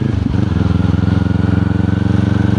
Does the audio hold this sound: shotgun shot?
no